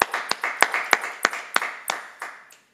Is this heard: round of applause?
yes